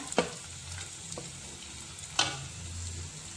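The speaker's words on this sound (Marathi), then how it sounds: "आता या आपल्या भाज्या 1-2-3 मिनिटं मी परतून घेतलेले आहे" Ginger, green chili, onion and cabbage sautéing in a pan: a quiet steady sizzle with two sharp spatula scrapes and stirs against the pan, no voices.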